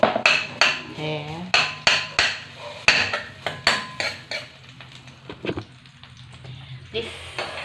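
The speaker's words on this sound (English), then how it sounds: "I am sauteing the white onions now here." White onions sauté in a frying pan, a soft sizzle under a series of sharp, rhythmic clacks of a utensil striking the pan, loud and close, fading slightly toward the end.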